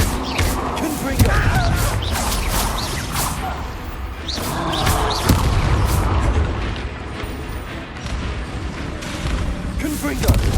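Confringo spell blasts from Hogwarts Legacy burst out repeatedly, loud booming explosions with whooshing casts spaced through the stretch over ongoing combat noise.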